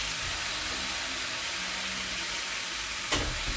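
Washed mushrooms hit a hot pan for a creamy mushroom tagliatelle sauce, giving a steady, fairly loud sizzle that runs throughout, with a brief sharper hiss burst near the end.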